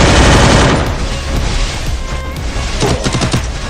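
Rapid gunfire in a shooting video game, with loud bursts of shots and booming impacts that come close together and fill the whole stretch.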